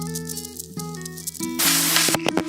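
An irrigation pivot sprays a wide arc of water, a harsh hissing rush of water over a rattling, humming drone of machinery, loud and close.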